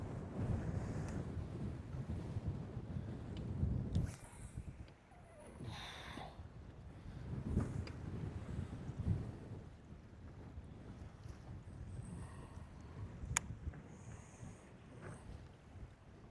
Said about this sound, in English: That wind did not let up out here today.